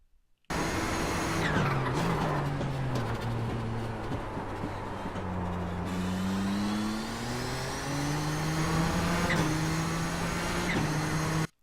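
Nissan GTP ZX-T race car engine in iRacing at Mid-Ohio, a loud continuous close-up drone that climbs in pitch under throttle, dips as it lifts, then builds again after upshifts, with no talk.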